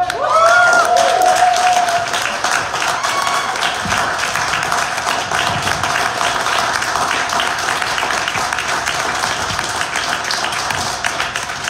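A crowd at a Québec Solidaire nomination debate for candidates in Verdun bursts into sustained, dense applause that carries on steadily for several seconds, with a few voices mixed in at the start.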